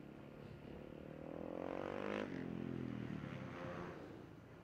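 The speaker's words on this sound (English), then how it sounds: "We've got some other bikes out on track now." Supermoto motorcycle racing on a track, an engine note rising to a peak as a bike passes close, then falling away, with a faint scrape or clatter at the end.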